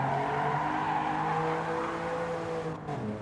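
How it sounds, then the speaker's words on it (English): Inline-six car engine in Gran Turismo 7 racing at Laguna Seca drones steadily at high revs with a sustained harmonic tone, briefly dipping as the pitch shifts near the end, loud and alone without speech. "I'm not the biggest fan of inline 6 engine sounds, but this one's not too bad"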